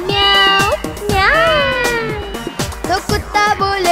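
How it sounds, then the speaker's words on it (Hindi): A cat meows several times in a row, close and clear, with drawn-out rising and falling cries. "बिल्ली करती म्याओ"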